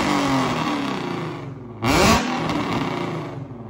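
An Infiniti G35 with a VQ engine revs after a repaired exhaust leak and new flex pipes. It idles with a rumbling drone, then gives one sharp blip before settling back. The sound is loud and close.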